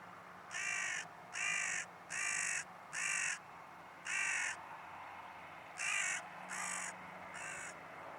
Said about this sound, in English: By now, a second crow had landed.